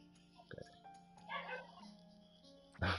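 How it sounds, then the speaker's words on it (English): A dog indoors yelps and barks in short bursts, faint and somewhat distant, over the steady hum of a room during a PS4 gaming session. "My dog's going ham."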